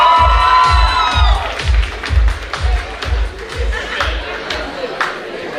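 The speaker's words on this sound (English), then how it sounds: "A round of applause for Jeevana" Wedding reception guests cheering and applauding as the bride's sister comes up to speak, with shouts and scattered clapping over a heavy, regular thumping beat from loud music, and voices chattering throughout.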